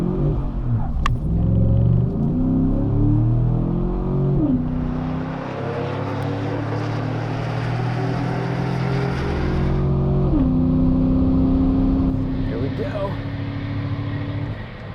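A tuned Coyote V8 Ford F-150 pickup launches and accelerates hard down a drag strip, its loud engine roar climbing through two clear gear shifts over about fifteen seconds, close and continuous with no talk.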